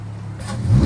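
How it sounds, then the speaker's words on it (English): Dodge Hellcat engine idles low, then swells into a louder rising rumble over about a second, close by and with no talking. "This is a fucking Hellcat right here."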